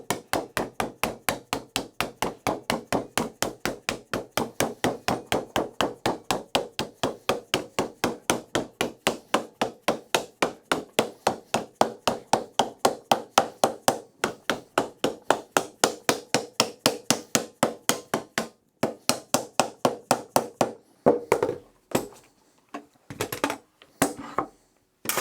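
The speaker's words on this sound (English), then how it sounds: "So we've got our dead blow hammer. And we just work our way back and forth here." Rapid, steady hammering on sheet metal with a dead blow hammer, bending it, dozens of even strikes in a fast rhythm, close up, breaking into scattered hits near the end.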